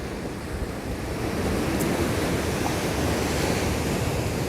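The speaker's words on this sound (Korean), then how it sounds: "항상 동해안은 입구는 파도가 많이 치니까" Ocean waves crash and wash steadily at a harbor entrance on Korea's East Sea coast in winter, a loud continuous surf roar mixed with wind rumbling against the microphone, with no voices.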